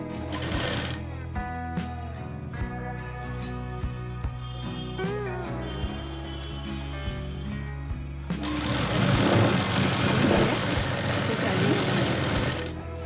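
An electric sewing machine stitching a plain blouse starts up partway through and runs in a loud, continuous whirring burst after an opening stretch with a voice.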